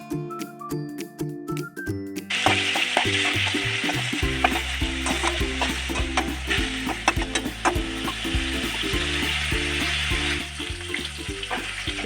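Chicken pieces sizzle and fry in a pot as they brown for chicken soup, with steady crackling and repeated scraping stirs, while music plays underneath.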